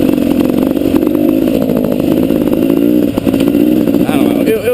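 A motocross dirt bike's single-cylinder engine revs steadily up close on a wooded single-track trail, its loud buzzing drone holding with small rises and dips throughout.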